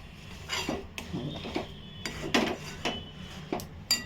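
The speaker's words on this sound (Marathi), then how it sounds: "मी गॅस बंदच करते आणि पुन्हा ढवळते." A spoon stirring hot sesame ladoo mixture in a pan off the flame, giving repeated scraping clinks and knocks against the metal at an irregular pace, close and moderately loud.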